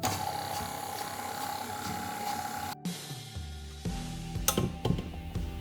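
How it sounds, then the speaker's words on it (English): A stand mixer with a paddle beats a creamed sugar mixture on low speed, giving a steady mechanical whir with rattling, clinking bowl contact. There is a brief dropout near the middle, then uneven clunks toward the end. "we're just going to give it a beat on low for about another 10 seconds"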